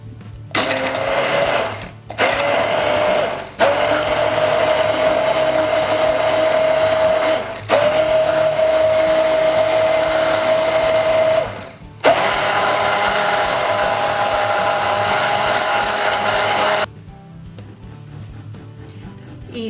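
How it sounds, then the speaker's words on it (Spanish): A blender purees roasted piquillo pepper sauce in a tall blender cup, whirring loudly in several long runs with a steady motor whine and brief pauses between pulses, then stopping near the end. "Ahora lo ponemos en un vaso batidor y lo trituraremos todo."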